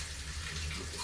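Running water splashes steadily as moong dal and rice are rinsed for khichdi, a constant close wash of water with no talking.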